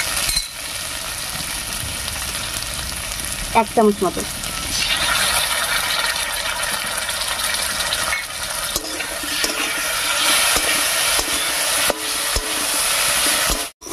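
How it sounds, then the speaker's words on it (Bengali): Potatoes fry in a pan with chili paste, giving a steady sizzle and stirring scrapes, and a voice speaks briefly over the cooking. "লঙ্কা বাটাটা দিয়ে একটু ভাজা ভাজা মতো করে নিয়েছি"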